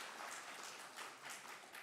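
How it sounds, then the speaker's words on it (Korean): A church congregation applauds during a Sunday service welcome, a faint, distant patter of many hands with gentle swells, heard alone without talk. "박수로 한번 환영하겠습니다"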